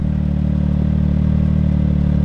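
A vehicle engine with a CVT drive belt idles close up, a steady low, throbbing hum with an even rapid pulse and no change in pitch.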